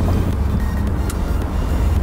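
A Pontiac Trans Am V8 fitted with Flowmaster exhausts rumbles steadily nearby, a deep continuous drone with some wind buffeting over the microphone.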